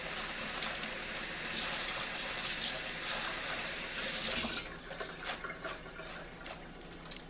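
Vegetables being washed under running tap water in a kitchen, a close, steady stream that breaks into splashier, uneven spatter near the end as the pieces are rinsed, with no talk.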